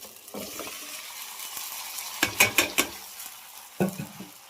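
A tempering of cucumber and tomato fries in a pan, a close sizzle broken by a cluster of sharp metal stirring scrapes and clanks, then one more scrape toward the end.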